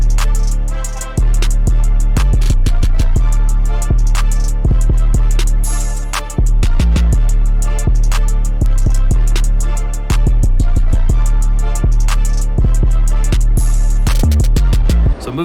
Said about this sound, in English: But altogether, my 808 pattern with everything sounds like this.